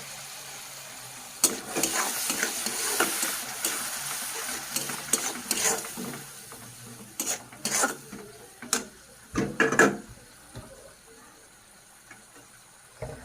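Prawns frying in a pan with beans, stirred now and then: soft sizzling under intermittent scraping and clattering strokes, fairly close and moderately loud.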